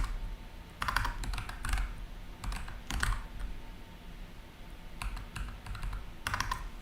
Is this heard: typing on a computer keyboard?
yes